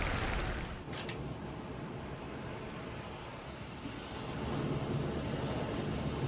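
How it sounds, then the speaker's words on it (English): A SpaceX Falcon Heavy rocket burns its engines after liftoff, giving a dense, steady roaring rumble that fills the whole stretch without pause. "Power and burn for approximately another minute, while the side boosters execute their boost back burns simultaneously."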